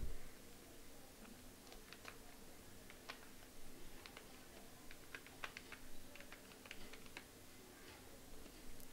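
Faint, uneven keyboard typing as a video title is entered, soft key clicks scattered across the stretch over a steady low hum, no voices.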